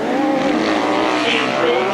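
Grasstrack racing motorcycles at a 1992 British Masters qualifier roar steadily around the circuit, a continuous loud engine drone with shifting pitch as machines pass.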